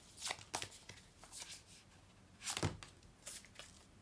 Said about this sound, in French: Je vais ajouter une carte